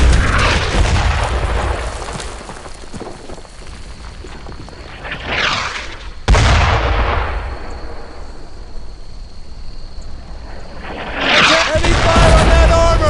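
Heavy gunfire and booming explosions in the World War II shooter game Brothers in Arms: Earned in Blood, loud and close, with a sharp blast partway through and shouted voices over the battle.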